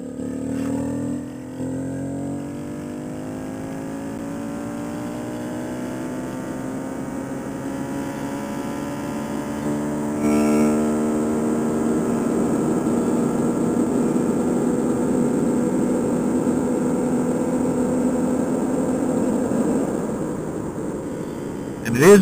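A small Aracer-tuned mini bike engine revs in third gear on a dyno, a steady buzzing drone rising slowly in pitch over about twenty seconds with a brief jump midway, loud and continuous.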